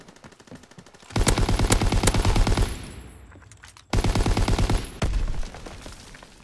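PPSh submachine gun fire in a first-person shooter video game: two long rapid automatic bursts, loud and close, separated by a short quiet gap with fading echo.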